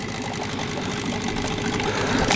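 A Mikatsu 9.8 outboard motor runs steadily on a new boat, a continuous close mechanical drone with even loudness throughout and no voices.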